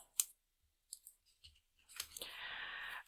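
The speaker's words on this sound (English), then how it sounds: "I'm gonna continue to add more strips of my Scotch tape and work my way up this die cut." Scotch tape pulled and torn into strips, then pressed onto a paper die cut for a stitched snowflake quilt, giving a sharp tear followed by scattered clicks and a longer sustained rasping rip, close and fairly quiet.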